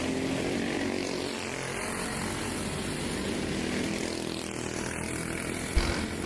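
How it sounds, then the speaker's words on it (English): Racing motorcycles at a kart-track cycle league event screaming down a long straightaway, a steady, loud, dense engine drone holding throughout with a brief burst near the end. "Rev limiters on down the end of the long straightaway."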